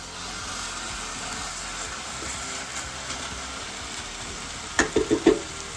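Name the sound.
London broil steak sizzling in the pan after being flipped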